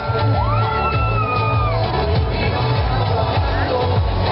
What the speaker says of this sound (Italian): Un grande applauso dal centro per Melania